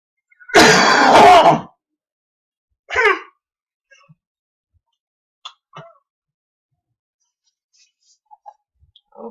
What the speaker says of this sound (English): I want you to cough into the cup, okay? And get out as much as you can get.